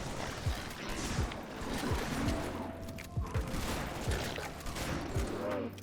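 Assault rifle fire in Halo: Combat Evolved: a steady run of sharp, punchy shots repeating at an even pace over a busy background of game noise.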